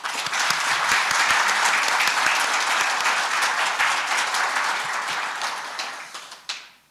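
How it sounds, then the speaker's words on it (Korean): An audience at a company renaming and office-opening ceremony applauds the staff of Shinhan Fund Partners, with loud, sustained clapping from many hands that holds steady, then fades out with a last few claps. "우리 신한 펀드 파트너스 직원 여러분께 예, 박수 한번 보내주셨으면 좋겠습니다"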